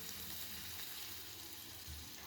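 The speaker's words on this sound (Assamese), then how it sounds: "ইয়াত এতিয়া এগিলাচ গৰম পানী দি দিছোঁ" A glass of hot water poured into a sizzling pan of paneer masala with potatoes produces a faint, steady frying hiss with a soft low rumble, no voices.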